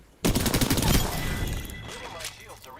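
Rapid automatic gunfire from Apex Legends: a dense fusillade of shots bursts in suddenly and keeps rattling, fading slightly toward the end, with a voice speaking over it.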